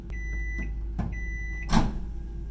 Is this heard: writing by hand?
no